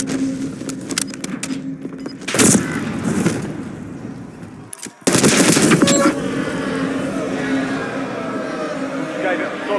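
Automatic gunfire in the video game Warzone, heard as loud rapid bursts that cut in abruptly between stretches of game voices and talk, followed by steady background rumble.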